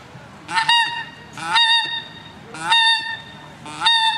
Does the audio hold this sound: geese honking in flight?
yes